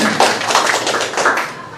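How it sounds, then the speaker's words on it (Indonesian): Friends at a labour movement gathering clap together, a short spell of brisk, fairly close hand claps with an uneven rhythm. "tepuk tangan dulu lah teman-teman."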